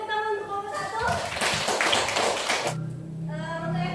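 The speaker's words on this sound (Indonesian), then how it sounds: "beri tepuk tangan untuk kelompok" A classroom gives a group a short burst of applause, a dense patch of clapping of about a second and a half between stretches of a teacher talking.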